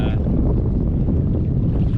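Steady, loud wind buffeting the microphone on a kayak in a shallow inshore lagoon, a continuous low roar that fills the whole stretch without letting up.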